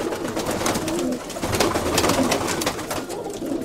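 Pigeons cooing in a loft or coop in Kozani, a steady murmur of soft overlapping coos from several birds, fairly close and continuous, with no talk.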